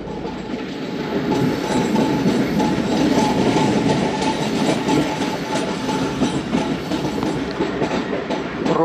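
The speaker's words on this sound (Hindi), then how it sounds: "इसी में से ट्रेन गुज़र के जाती है।" The Karachi Express passenger train rolling across the bridge at Sukkur, a loud continuous rumble with rhythmic clickety-clack of wheels over rail joints and faint metallic squeal, sustained throughout.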